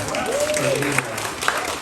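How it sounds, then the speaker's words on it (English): A crowd at a Black art fair welcome in Toronto claps steadily in a brief burst of applause while a voice speaks over it. "can y'all please give a round of applause for yourselves for being here"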